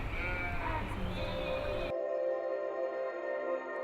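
A flock of about 500 sheep and goats on a traditional migration route from the Kangra valley in the Himalaya bleats repeatedly, several overlapping calls at moderate distance under a steady background, before the sound cuts abruptly to a quieter bed.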